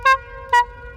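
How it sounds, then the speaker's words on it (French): Two short, bright toots from a novelty musical car horn of the kind sold as an illegal car accessory, each a brief multi-tone blast separated by a half-second gap, loud and close. "c'est vraiment les klaxons de beauf"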